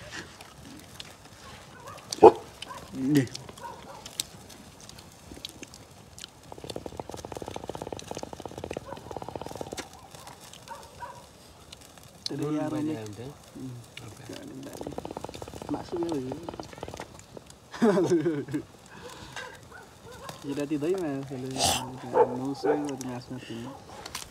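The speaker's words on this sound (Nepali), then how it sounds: "त्यो कुकुर कहाँ गयो" A dog barks and yips in short bursts at intervals, fairly close, mixed with whimpers and other vocal sounds over a quiet background.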